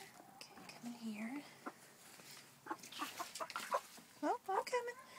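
A hen clucks and murmurs close by inside a home-built chicken coop, with soft quiet talk at first and then a run of louder, quick clucks near the end.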